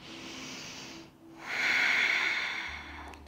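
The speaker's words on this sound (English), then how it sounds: "Take another round of breath" Deep, audible breaths drawn during a yoga stretch: a quiet inhale-like hiss, a brief pause, then a stronger, longer airy exhale swelling and fading up close, with no talking.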